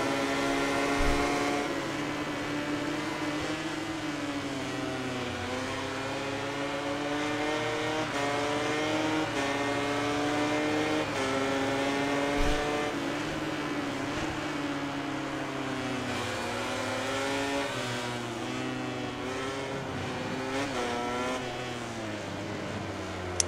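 Racing motorcycles in MotoGP 19 at Silverstone roar steadily and loud throughout, with rising, shifting engine tones as riders accelerate past one another, with no voices over the continuous whine.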